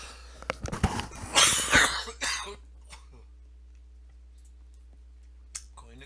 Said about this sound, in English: Going to cough up a lung and then I'll be right back.